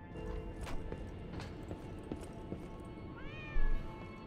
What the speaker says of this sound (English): What's up, cat?